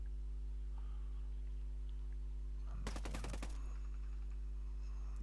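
A single sharp burst of rifle fire in Ghost Recon Breakpoint cracks out over a steady low hum, brief and close, then the quiet background hum returns.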